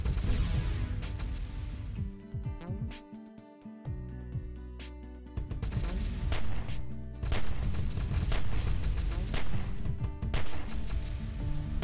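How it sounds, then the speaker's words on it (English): Rapid weapon firing in Cally's Trials: a dense, continuous stream of quick shots with crashing impacts layered over steady game music, loud throughout and with no talking. "What's with the rapid firing?"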